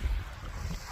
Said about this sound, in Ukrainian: Вітер неймовірний, але